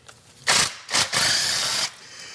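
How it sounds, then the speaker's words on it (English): Ratchet or power tool working 8 mm plastic intake manifold bolts loose on a GM 3.8 V6 engine, heard as three close, loud mechanical bursts, the last held for nearly a second. "Let's go ahead and work on getting the rest of our intake bolts out."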